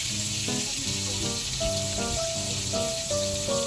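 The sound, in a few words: frying fish sizzling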